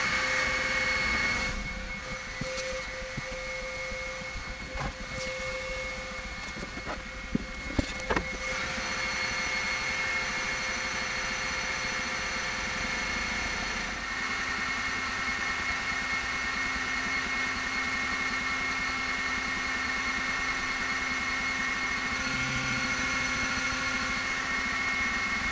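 An Ortur Laser Master 3 engraves pine, sped up: a steady mechanical whir and hum with a constant high whine runs throughout, with a few sharp clicks early on and no talking.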